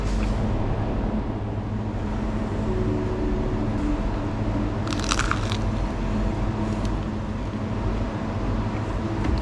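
Chipa, Paraguayan cheese bread, is chewed close up in a loud, air-conditioned setting, with continuous crunchy chewing and a couple of brief higher crackles over steady background noise and no talk.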